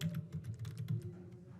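Typing on a computer keyboard: soft, quick key taps in an uneven rhythm, close and fairly quiet over a steady low hum.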